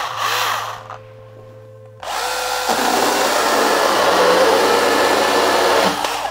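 A Makita handheld battery chainsaw cuts wood. A short whir is followed by a pause, then a loud, sustained buzzing cut that holds for about four seconds before easing off.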